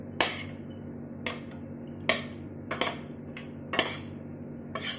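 Metal utensils clink and scrape against a pan and dishes while a cooked eggplant dish is moved out. About six sharp, close knocks come at irregular intervals, with no talking.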